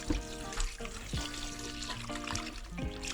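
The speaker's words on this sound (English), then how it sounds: "So first I'm gonna wash it, rinse it properly" Water runs steadily over beef bones being rinsed in a sink, a continuous trickling pour with a tonal, humming background throughout.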